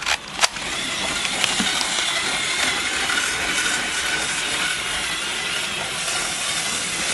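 A motorised Lego Emerald Night steam locomotive model runs along its track with a steady whirring, hissy drone, marked near the start by a couple of sharp clicks, close and continuous.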